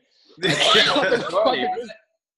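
A single coughing-like vocal sound from a dance music track, a short raspy throat-clearing burst lasting about a second and a half, close and isolated against silence.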